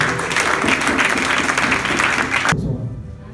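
A church congregation claps and cheers for Jesus during a sermon, dense enthusiastic applause that cuts off abruptly near the end.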